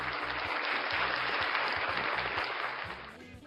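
Applause for a guest fills the space as a dense, even wash of clapping with a low rhythmic thumping underneath, fading slightly toward the end.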